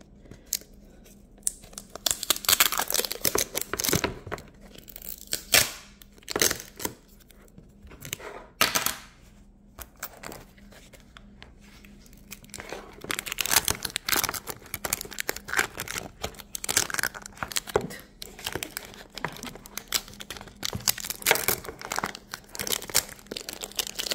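Close, irregular crinkling, crackling and tearing bursts from packing tape on a box being unboxed, with short quiet gaps between sharp rips and a busier stretch of rustling near the end.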